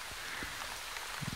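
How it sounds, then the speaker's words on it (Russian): Light drizzling rain pattering steadily on surfaces near a tent on a fishing trip, a soft continuous hiss with a few low thumps toward the end. "Оно моросит, вон оно."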